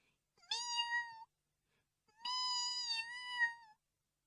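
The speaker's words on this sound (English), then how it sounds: "At once there came a pathetic mewing." A cat gives two drawn-out, plaintive mews from somewhere near a bush, each rising and then trailing off, separated by a brief silence, with no talk.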